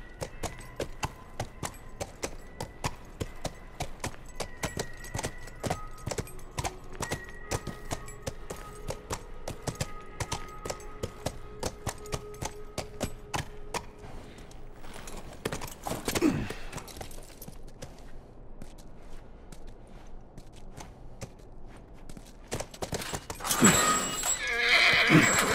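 Horse in The Last of Us video game, steady clip-clop of hooves walking along with whinnies and neighs, close and continuous, no talking.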